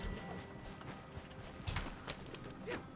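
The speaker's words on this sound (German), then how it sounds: "ich glaube, ich reite lieber mein Pferd" Horse hooves clip-clop at a steady trot while riding in Red Dead Redemption II Online, the footfalls faint and mixed with creaking tack and low game ambience.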